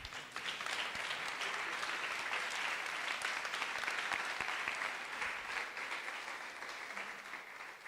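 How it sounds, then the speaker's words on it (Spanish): A church congregation claps together in sustained, dense applause, an even wash of hand claps that holds steady throughout and tapers slightly at the end, with no voices over it. "Denle un aplauso al Señor."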